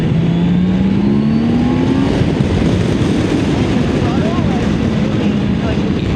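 A BMW motorcycle engine revs loud and close while riding, its pitch climbing steadily under a constant roar of wind and road noise.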